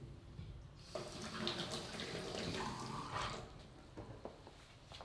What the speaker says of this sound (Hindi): हमें धोना है हॉथॉर्न स्ट्रेनर